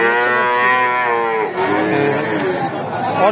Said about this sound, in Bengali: এই হাটটিতে অসংখ্য পরিমাণ উন্নত জাতের বকনা গরুগুলো পাওয়া যায়